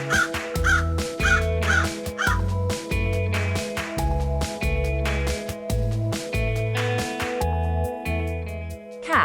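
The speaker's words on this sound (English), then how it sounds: "Crow." A crow caws in a series of harsh, repeated calls, most clustered early, heard over a steady musical backing.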